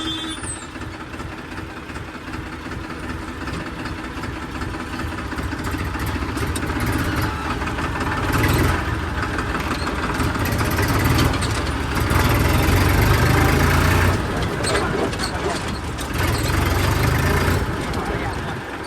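A tractor engine idles with a steady low rumble that swells and eases over time, heard outdoors under intermittent talk.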